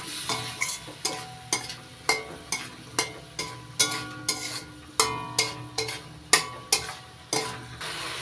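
Banana flower curry with turmeric and coriander powder is sautéed in a pan, a spatula scraping and tapping in a steady rhythm about twice a second over a soft sizzle, close and alone.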